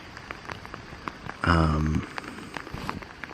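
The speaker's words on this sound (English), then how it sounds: "It is a very gentle but kind of constant drizzle." Gentle, constant drizzle patters faintly on a tent at night, a soft scatter of light drop ticks throughout, briefly covered by a louder tonal rustling burst near the middle.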